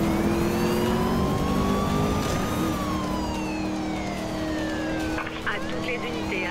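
A Dodge Charger SRT8 in Need for Speed Rivals accelerates hard, its steady engine roar filling the whole stretch with rising and falling tonal sweeps, a siren-like wail layered over it, and a voice talking beneath.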